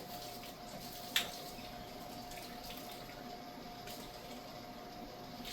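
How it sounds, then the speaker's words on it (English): Hot water runs steadily from a tap for rinsing milk equipment, a constant broadband hiss with a single brief clink near the start, with no talking. "And then we just do a few rinses with hot water"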